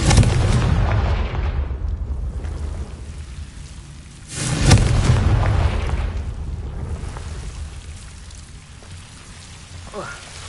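A Harry Potter-themed Confringo blasting spell goes off as one loud, rumbling explosion burst, swelling out of a sustained roar of crackling noise and then fading into a long, thundering tail.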